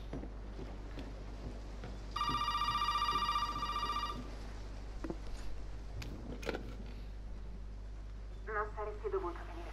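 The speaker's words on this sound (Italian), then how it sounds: "Il telefono squilla." A telephone rings in the Resident Evil 7 video game, a bright electronic ring lasting about two seconds, with ambient game sounds and a low hum behind it and a shorter tonal ring near the end.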